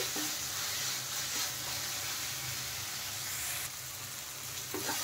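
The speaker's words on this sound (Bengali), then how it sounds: "পেঁয়াজ আর টমেটোটাকে একটু কষাতে থাকবো এখন।" Onion and tomato sautéing in a pan for a spicy sweet corn chaat, giving a soft, steady sizzle and hiss with faint stirring scrapes, fairly quiet and close, no voices.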